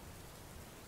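Rain falling outside at a camp, a dense, even hiss of pattering drops, faint and unbroken through the short stretch, with no talk.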